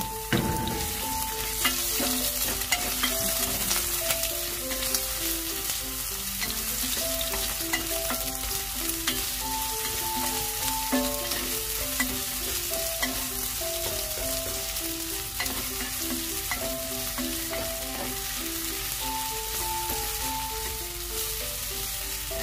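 Onions sautéing in hot olive oil give a loud, continuous close-up sizzle that runs unbroken throughout, with a faint melodic tune playing underneath and no talking.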